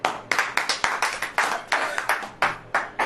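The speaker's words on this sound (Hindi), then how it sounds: "ताली बजाइए।" An audience claps in a worship gathering, about a dozen sharp claps in a steady, slightly uneven rhythm, close and loud, with no talking over them.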